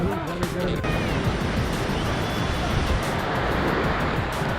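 Waterfall in Kumrat Valley, a steady, loud broadband rush of falling water that fills the whole stretch without pause, with a little wind buffeting the microphone.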